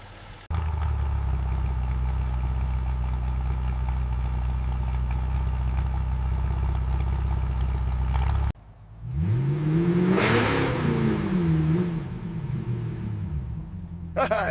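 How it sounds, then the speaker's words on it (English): Restored car engine running with a steady low idle drone for several seconds, then cutting out and catching again into a rising, falling rev, with a voice over the second part. "The exhaust pulses rhythmically, a captivating mechanical symphony."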